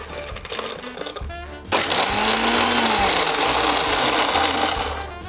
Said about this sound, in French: on va pouvoir les mixer dans un blender